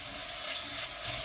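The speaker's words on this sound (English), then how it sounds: "So I'm just going to saute this up" Mushrooms sautéing with Worcestershire sauce and thyme in a pan, giving a steady, close, dense sizzle with no pauses and no voices.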